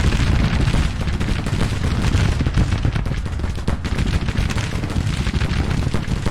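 Civil War musket fire in the Grand Tactician strategy game, during a fight for Kentucky: a dense, continuous crackle of many rifles firing at once, loud and unbroken throughout, with no voices.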